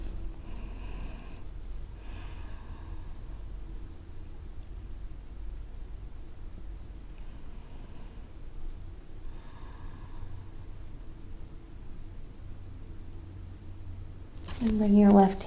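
Slow, soft breaths, in and out through the nose, from a person doing a gentle yoga core-strengthening sequence on a mat. About four audible breaths rise over a low background hum, then a louder rustle comes at the end.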